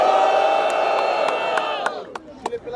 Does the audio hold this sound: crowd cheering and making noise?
yes